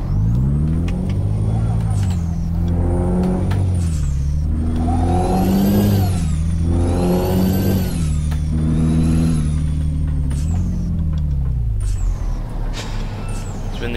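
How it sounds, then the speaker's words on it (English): Peterbilt 379 truck in Euro Truck Simulator 2, its engine droning low and steady while a rising gearbox whine swells and falls through repeated revving, with a voice talking over much of it. "when you start to go over about 35, I think, you can start getting the gearbox whining"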